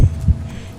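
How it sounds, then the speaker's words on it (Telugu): A fast heartbeat sound effect in a horror story, set on a dark, lonely forest path: two quick, deep, muffled thumps close up, standing alone with a low hum beneath. "వెంకన్న గుండె వేగంగా కొట్టుకుంటోంది"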